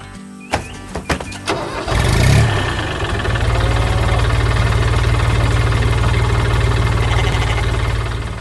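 Blue truck in an animated farm cartoon, a few clicks and cranks, then the engine catches and settles into a loud, steady, close idle with a rough rhythmic chug.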